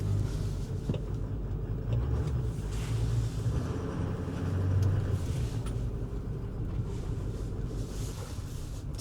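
A Ford Power Stroke diesel truck engine running above idle, a steady low, close rumble that swells slightly at times, with some wind buffeting and no speech.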